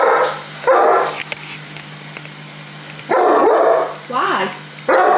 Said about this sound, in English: What is the point in that bark?